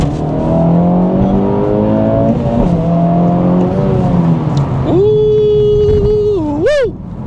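A 2024 Acura Integra Type S in Sport Plus mode pulls away under power, its loud engine climbing through the revs with shifts, heard close from inside the cabin, ending in a brief high whine.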